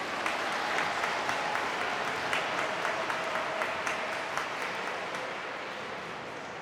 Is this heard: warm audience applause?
yes